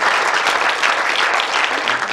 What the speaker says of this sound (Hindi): शहजाद हरून भुट्टा साहब के लिए तालियां जितनी उतनी कम है